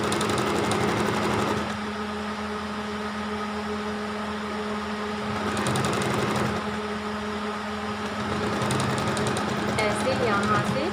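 A sewing machine stitching a baby frock, running in a steady, close mechanical hum with a rapid needle rattle that eases briefly twice and then resumes.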